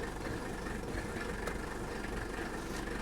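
Diesel engine with glow plugs cranking over without the throttle pressed, a steady droning churn that stays loud and continuous throughout, with no clear catch or fire-up.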